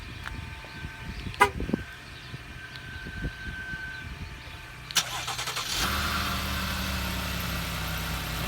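2017 GMC Acadia SLT2 front-wheel drive cold start at 16°F: a few faint clicks and a brief chirp, then the engine catches and settles into a steady, fairly quiet idle.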